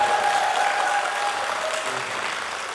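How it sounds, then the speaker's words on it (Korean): An audience at a parents' education talk concert in Busan greets a guest with loud, sustained applause, dense and even throughout while a faint tone fades in the background. "박수로 환영합니다"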